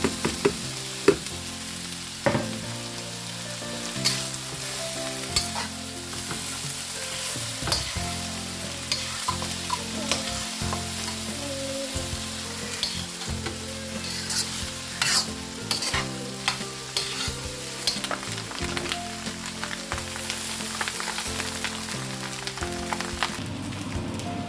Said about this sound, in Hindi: इसके अंदर अब हम राइस ऐड करते हैं।